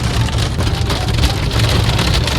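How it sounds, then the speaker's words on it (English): Steady rain in Sedona, Arizona pattering on a surface, a dense continuous hiss with a low rumble underneath, close and fairly loud. "A bunch of rain in Arizona."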